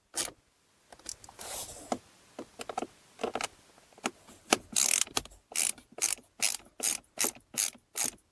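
A hand ratchet snugs up bolts while a blower motor is installed in a Chrysler Town and Country, giving bursts of quick clicking and then a steady run of short, evenly spaced ratcheting strokes close by.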